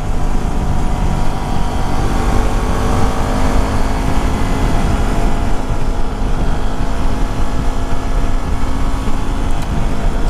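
Yamaha WR250R motorcycle ridden on roads between Bonny Doon and Davenport, its engine droning loud and steady under heavy wind rush, with no talking.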